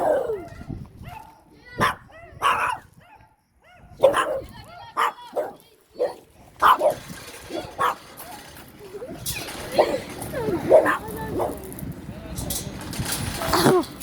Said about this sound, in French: Oh les chiens.